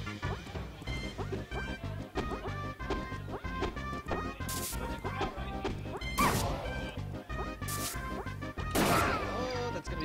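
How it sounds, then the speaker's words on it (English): Up smash attacks land in Super Smash Bros 64, delivering sharp, loud smacking hits over a busy game soundtrack, with two bright impact bursts standing out near the end. "Two up smashes in a row and have it actually work out."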